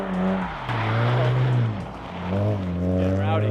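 Drift cars at East Coast Drift School rev hard with rising and falling engine notes close by, in overlapping bursts of engine noise and tire squeal, while people talk over the din.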